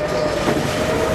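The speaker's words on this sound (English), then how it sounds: "there goes the caboose over the" A passing train's last car, the caboose, rolls over a mountain river bridge in Alaska, a steady continuous rumble with faint rail rattle throughout, moderately loud and unbroken.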